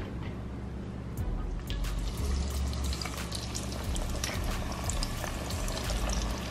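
Seafood goes into hot, high-temperature deep-frying grease, and a dense, continuous bubbling sizzle swells and then holds steady throughout, close and fairly loud, with no talking.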